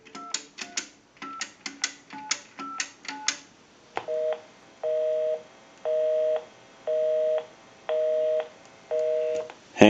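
A single-slot payphone sequence of quick touch-tone dialing beeps followed by a steady repeating busy signal, regular on-off pulses, loud and close with no talking.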